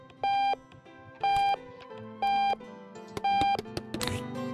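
Kitchen timer in the game Octodad beeps in four evenly spaced bursts about a second apart, each a sustained electronic tone, over a light bed of game music and clatter.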